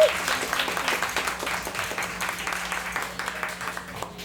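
An audience at a live music show applauds steadily for the band, a dense burst of clapping close and loud that gradually thins and fades, with some voices mixed into the crowd.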